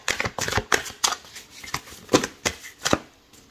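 Tarot cards are shuffled by hand in a quick series of crisp riffling slaps and flutters, close and distinct, with no voice.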